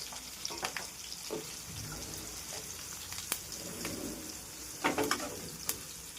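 Turmeric and green chillies fry in oil in a pan for lemon rice, giving a steady, faint sizzle with occasional soft stirring scrapes and pops.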